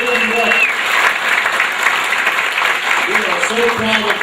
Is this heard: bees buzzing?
no